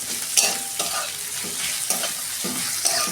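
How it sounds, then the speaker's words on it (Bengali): Nigella seeds sizzle in hot oil in a tempering for fried jute leaves with garlic and onion. A steady close frying hiss carries repeated stirring scrapes at an uneven rhythm, with no talking. "এই যে ফোড়নে আমি অল্প কালো জিরে দিচ্ছি।"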